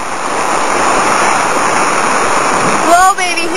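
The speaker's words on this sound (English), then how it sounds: "There's the storm. The raging storm." A raging storm of wind and rain beats against the outside of a grease-powered RV, a loud, steady rushing wash that dips briefly near the end.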